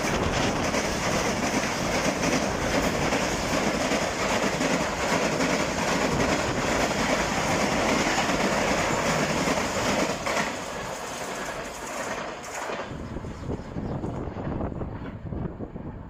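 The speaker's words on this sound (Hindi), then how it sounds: "बड़ी स्पीड में आ रही है ये 16 डाउन कराची एक्सप्रेस।" 16 Down Karachi Express passenger train rushing past at high speed near Dhabeji railway station, a loud, continuous roar of wheels and rail rumble with wind buffeting, fading as the last coaches pass near the end.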